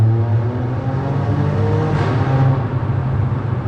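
A 2020 Alfa Romeo Stelvio Quadrifoglio sports SUV roars in race mode, a loud, close, continuous engine growl that swells briefly as it revs.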